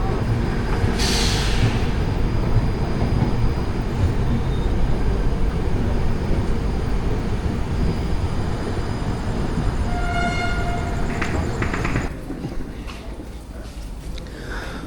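The 12432 Rajdhani Express rolls out of Ernakulam Junction with a continuous loud rumble of wheels and carriages, a short horn-like tone near the start and squealing tones near the end before the noise drops.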